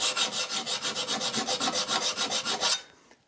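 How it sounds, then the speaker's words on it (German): A knife blade is hand-sharpened with a file, giving about fifteen steady, rhythmic rasping strokes that sound close and bright, then stop abruptly near the end. "wenn ich es von Hand, tatsächlich von Hand mit der Feile schärfe,"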